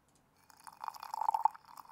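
Water poured into a cup in a field recording, a close, quiet trickle that builds into a steady filling stream with bright gurgling notes toward the end, with no voices.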